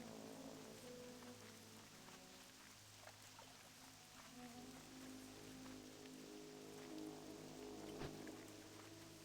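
Steady rain falls throughout the Wetlands in World of Warcraft, a constant even patter of drops on surfaces with faint ambient tones underneath and no talk.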